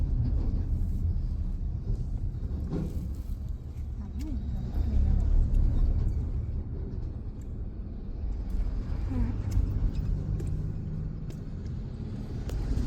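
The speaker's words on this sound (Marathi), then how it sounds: "हा एक ट्रक फक्त आपल्याला काढायचा आहे." A car cruising a highway and pulling out past a truck, with steady road rumble and engine drone that swells as the truck is overtaken and fades back, while people inside talk intermittently.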